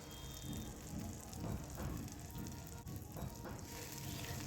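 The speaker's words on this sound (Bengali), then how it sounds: "ভালোভাবে মশলাটা আমি কষিয়ে নেব" Salt, turmeric and Kashmiri chilli powder fry in a pan for malai pabda fish, a faint, steady low sizzle and crackle throughout with no talk.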